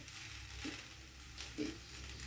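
A poha paratha flavoured with ajwain and cumin fries in oil on a tawa with a soft, steady sizzle, broken by two faint scraping touches.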